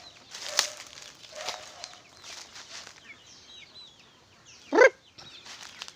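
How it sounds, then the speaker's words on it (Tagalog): Rhode Island and native chickens on a farm: scattered faint clucks and calls, a few wing flaps and one louder burst of flapping, heard alone without talk. "yung farm ito yung farm ko dito mga boss Rhode Island saka native chicken yan po sila oh"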